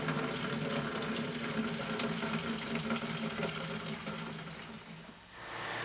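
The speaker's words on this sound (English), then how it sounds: "let a little bit of water flow over it to clean while we're spraying" Water from a tap pours steadily over a spray-gun cup in a sink, a close, continuous rushing splash that eases off near the end.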